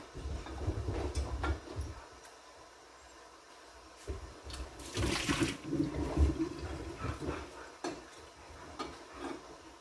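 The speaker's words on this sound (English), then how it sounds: "I'm going to take some of that water out" Water sloshes and splashes in bursts as it is scooped and poured from a canning pot holding jars of grape jelly, with a louder pouring swell midway and clinks of a utensil against metal.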